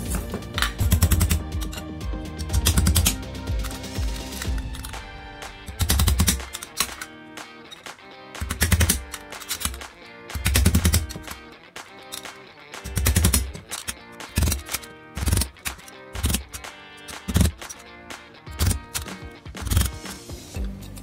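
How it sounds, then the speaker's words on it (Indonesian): Repeated sharp impacts as a nail is hammered to punch holes: loud metallic knocks in irregular bursts with short pauses between them, close by. "kita lubangi menggunakan sebuah paku"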